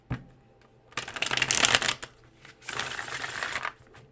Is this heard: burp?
no